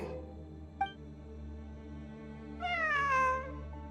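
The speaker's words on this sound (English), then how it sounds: "It really is a cat." A cat meows in the video game Genshin Impact. One short chirp comes first, then a longer, louder rising-and-falling meow near the end, heard alone over a steady low ambient hum.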